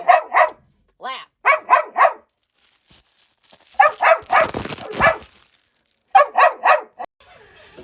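An excited dog barks in quick bursts of two or three yips and barks, loud and close, with a whimpering whine between and a brief burst of rustling noise midway.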